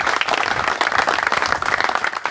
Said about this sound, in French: Alléluia, applaudissons pour notre Seigneur.